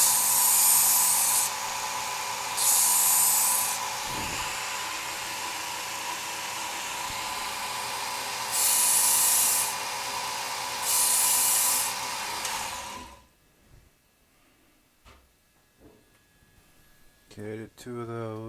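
A Ken Onion knife sharpener running an abrasive belt against a knife edge, a steady loud motor whine with repeated brighter grinding passes, then the machine winds down and stops, followed by quiet handling noises.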